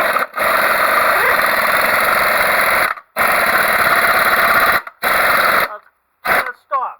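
An impact wrench fitted with a torque stick tightens a lug nut on a wheel stud in loud, sustained bursts of hammering with short gaps between them, while people talk nearby.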